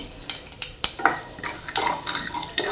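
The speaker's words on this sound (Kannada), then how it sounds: "ಈಗ ಚಟಪಟ ಅಂತ ಇದೆಯಲ್ಲ ಎರಡು ಟೇಬಲ್ ಅಷ್ಟು ಶೇಂಗಾ ಬೀಜ ಹಾಕ್ಕೊತಾ ಇದ್ದೀನಿ" About two tablespoons of peanuts fry in hot tempering oil for poha, crackling and popping in quick irregular bursts alongside sharp metallic clinks of a spoon against the pan.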